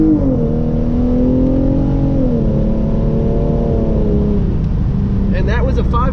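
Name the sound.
Hyundai Genesis Coupe 3.8 launching from second gear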